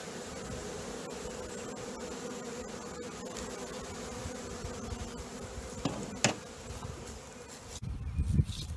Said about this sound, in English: there's bees that are coming and going, and some of them are fanning there to let the others know that